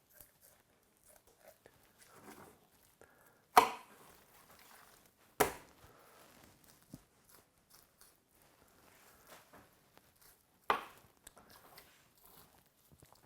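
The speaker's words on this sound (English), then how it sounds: "all I'm doing is finding all these little seams in between these muscles and cutting those connections between the muscle groups" A knife slicing through connective tissue between deer or elk muscle groups during home butchering, quiet scattered cuts with a few sharp louder snicks and soft rustling handling, no talk.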